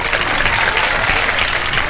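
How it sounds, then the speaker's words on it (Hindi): Studio audience at a televised Ramadan Sehri program breaks into sustained applause, a dense, steady wash of many hands clapping close by with no talk over it. "बहुत सारी तालियां बजा दीजिए"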